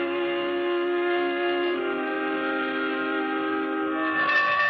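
Steam train sound effect in an old radio drama, a steady loud drone of stacked whistle-like tones holding for several seconds with no speech over it.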